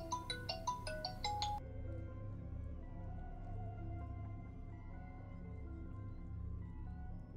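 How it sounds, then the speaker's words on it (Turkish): A phone ringtone plays during a Turkish Let's Play of StarCraft: Remastered, a quick run of bright, rising melodic tones over steady game music, then stopping after about a second and a half. "telefon çalıyor"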